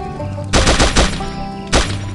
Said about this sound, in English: we are going to go to the assault machine gun in the gallery and test the damage